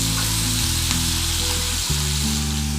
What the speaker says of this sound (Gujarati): બધી વસ્તુને તેલની અંદર સાંતળી લેશું